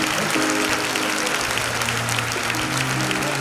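A church congregation claps loudly and continuously in praise of the Holy Spirit during a lay-hands prayer service. The dense applause fills the room over a sustained musical backing.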